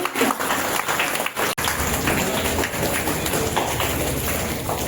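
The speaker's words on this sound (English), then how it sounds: "Give a cheer clap for the great." An audience at a school Independence Day celebration claps and cheers, a busy, uneven patter of hands with a brief dropout near the start, then steady clapping at moderate level.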